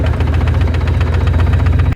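A noisy rebuilt Skoda car engine runs steadily nearby, a loud, continuous low rumble with a rhythmic knocking pulse that holds evenly for about two seconds before cutting off abruptly.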